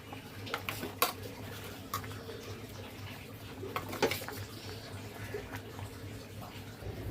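Pots and utensils clinking while clam curry is cooked, with scattered sharp metallic knocks and scrapes over a low steady background hum, fairly faint and irregular.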